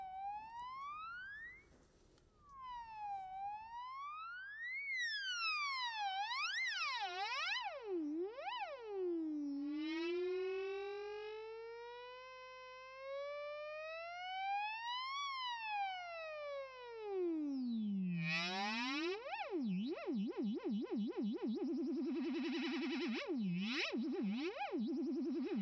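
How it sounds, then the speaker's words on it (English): A Mooer Elec Lady flanger pedal in self-oscillation produces loud, whistling tones that swoop up and down in repeated siren-like arcs, with a steady low hum underneath and no talking. "when you turn down the color full clockwise, you can go to self-oscillation"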